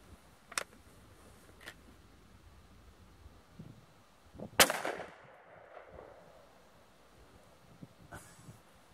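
A BB gun fires at birds perched on a wire outdoors, one sharp snapping shot standing out loud in the middle, with a few fainter ticks and clicks scattered before and after against quiet background.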